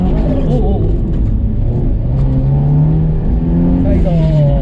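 A car engine revs hard and steadily during a drift, loud and close, with a droning roar and shifting pitch as the throttle is worked, while people talk over it.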